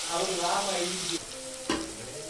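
Chopped onion and green chillies hit hot oil in a pan with a loud close sizzle and stirring scrapes, then the frying settles into a quieter hiss with another sharp burst near the end.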